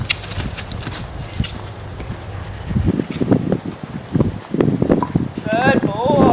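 A horse being schooled at a canter gives rhythmic clip-clop hoofbeats that pick up partway through, close by, while a person talks over them.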